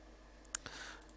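A computer mouse gives a few small sharp clicks, quiet and close over faint room hiss.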